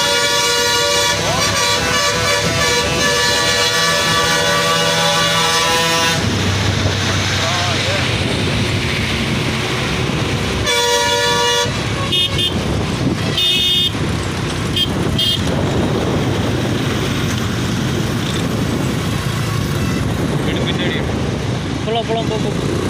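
An empty truck driving fast on a ghat road at Dhimbam, its engine roaring close by with blasts of a horn early on, amid traffic noise and people talking throughout.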